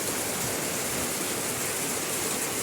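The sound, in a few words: heavy rain falling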